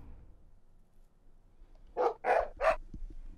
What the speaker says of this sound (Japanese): タオヤ、そんなに吠えるんじゃないよ。